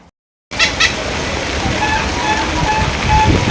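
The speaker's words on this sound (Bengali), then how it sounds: "এত বৃষ্টি পুজোর মধ্যে" Heavy rain pours down steadily in a dense, loud hiss that starts abruptly after a brief silence and continues without pause, in Kolkata during Durga Puja.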